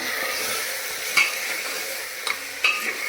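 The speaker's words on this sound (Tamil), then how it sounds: "நல்லா வதக்கி விட்டுக்கலாம்" About a quarter kilo of mutton with mutton masala and curry masala sautéed in a pan: a steady close sizzle with a few distinct spatula scrapes, no talking.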